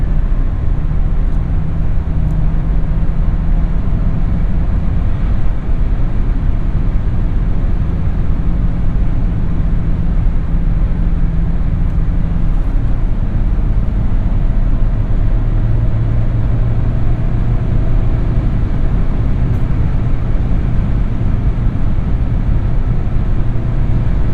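A 2016 VW Touran with a 2.0L TDI diesel and six-speed manual gearbox drives along, its engine a smooth, steady low drone under constant road and wind rumble heard from inside the cabin, with no talking.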